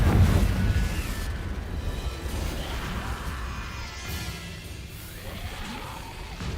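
The Confringo explosive spell in Hogwarts Legacy starts with a heavy boom, then a long rumbling, crackling decay that fades slowly, with faint whooshing debris underneath.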